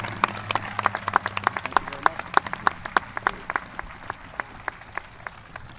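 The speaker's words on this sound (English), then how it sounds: "let's clap it up for the class of 2019" At a high school commencement, the crowd claps for the graduating class in a light, sparse burst of distinct hand claps over a low voice. The clapping gradually thins out and fades.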